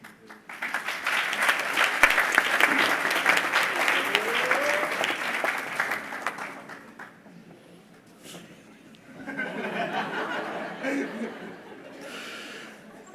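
An audience at a Glion bachelor's graduation ceremony in July 2019 claps in a loud, dense burst for about six seconds. The applause then thins into softer scattered clapping, chuckles and crowd murmur.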